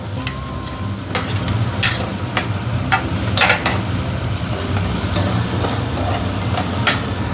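Tomatoes frying with onions in a pan for brinjal potato bhaji make a continuous loud sizzle, with occasional sharp clinks and scrapes from stirring and no talking.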